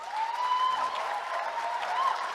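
A youth revival audience at an HKBP church in Ujung Menteng applauds the musicians, a soft even clapping wash under a sustained held tone that lingers through the room.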